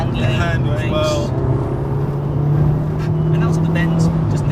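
An Abarth 500 GTO with 250 bhp accelerating out of bends, its engine a steady loud drone that climbs gently in pitch, heard from inside the car with road noise underneath and people talking over it.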